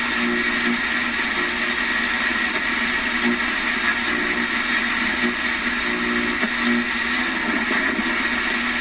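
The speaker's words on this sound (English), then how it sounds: "that's the sound of what most hams are doing these days, including me. That's FT8." FT8 digital signals come through a Hallicrafters S-38 tube radio tuned to the 20 meter band. A dense, steady wash of overlapping warbling tones sits over hiss and static, continuous throughout.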